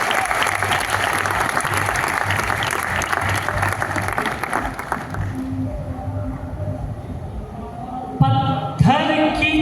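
A crowd at a kavi sammelan poetry gathering at IIT Kanpur breaks into dense, loud clapping that thins out and fades midway, followed by a voice starting to speak over the hall.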